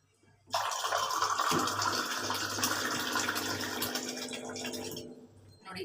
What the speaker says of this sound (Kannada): ಇದರಲ್ಲಿ ಒಂದು ಗ್ಲಾಸ್ ನೀರು ಹಾಕ್ತೀನಿ